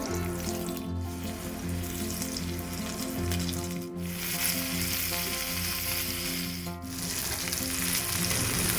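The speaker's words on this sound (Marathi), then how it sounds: "दोन्ही बाजूनी मासा चांगला भाजून घ्या।" Rava-coated bangda mackerel pieces shallow-frying in a pan, a loud, close, continuous sizzle that dips briefly three times, with faint stirring underneath.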